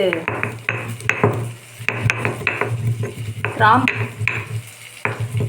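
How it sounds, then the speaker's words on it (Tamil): Whole cloves crushed into powder by hand in a home kitchen, a run of irregular scraping and grinding strokes with sharp knocks, close and fairly loud, with no talking. "நான் இப்போ கிராம்பு முழுசாக தான் இருக்குது, அதை கொஞ்சம் பொடிச்சு போட்டுக்க போகிறேன்"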